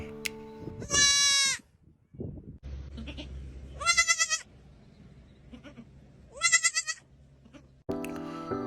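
A goat bleats loudly three times, each call wavering, with short pauses and other noises between them.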